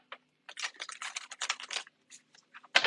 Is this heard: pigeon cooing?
no